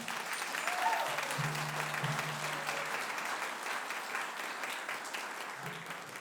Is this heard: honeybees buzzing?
no